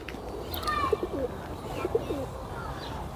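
Pigeons cooing in a park at the botanical garden in Kyiv, soft repeated coos at moderate distance over a steady outdoor background hum.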